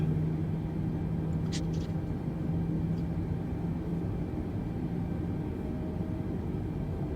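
An Airbus A320neo jet engine in Microsoft Flight Simulator settles after start, giving a steady low rumbling drone that holds evenly throughout. A few faint brief clicks sound near the start.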